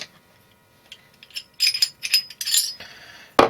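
Metal parts of a Glock 23 pistol being taken down clink and click near the mic in short bursts, ending with a sharper snap of the slide.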